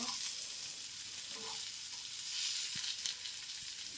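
Masala-coated fish frying in a pan with both sides roasted, giving a steady, fairly quiet sizzle and crackle throughout, with a few small clinks and no talk.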